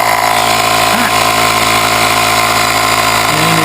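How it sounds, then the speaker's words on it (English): Small 12-volt air compressor powered from a Vespa GTV battery, running continuously: a loud, steady buzzing drone with a constant hum throughout, with no pauses. "Let's see if I have power to my air compressor"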